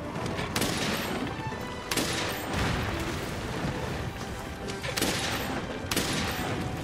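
Repeated spread ammo rounds fired at Nergigante in Monster Hunter World, a dense barrage of loud booming blasts with several sharp bursts over a continuous roar of battle noise.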